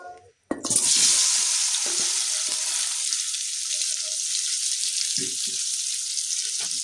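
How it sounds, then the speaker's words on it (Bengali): Potatoes hit hot oil in a pan for an egg and potato curry, erupting into a sudden loud sizzle that settles into steady frying, with a few soft stirring knocks. "এখন আলুগুলো দিয়ে দিব"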